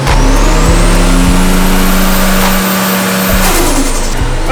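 A Nissan R32 with a forged RB25 Neo engine revs hard on a dyno, loud and close, the pitch climbing in sweeping pulls with brief drops between them.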